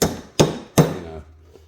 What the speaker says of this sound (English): This is where you could hit them with a hammer